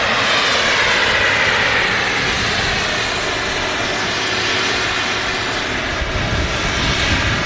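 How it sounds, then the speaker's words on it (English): A Boeing 777 jet engine roars continuously at Manchester Airport, a loud, sustained whine and rumble that holds steady throughout without any talk over it. "the massive 777. You can see how much we have to zoom out to get that aircraft in frame."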